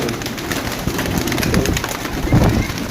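Teddy Ferozpuri pigeons cooing in soft low repeated calls, several birds close together, with a steady background hum.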